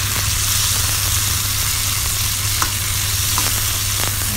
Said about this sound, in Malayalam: അത് ഞാൻ വഴറ്റിയെടുക്കുകയാണ്.